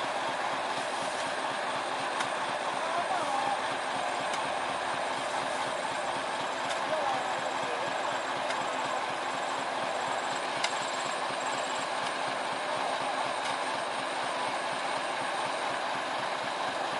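A steady, noisy rumble of a locomotive starting to move on a sugarcane railway line with track partly buried in soil, with faint metallic squeals and occasional clicks, no voices.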